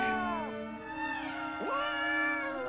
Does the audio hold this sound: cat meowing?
yes